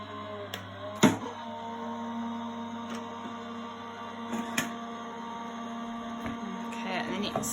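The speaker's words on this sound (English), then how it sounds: "I'm just going to run that through my Gemini machine" A Gemini die-cutting machine drives cardstock under a cutting plate with a steady, close mechanical hum, a few sharp clicks and knocks breaking through the even motor drone.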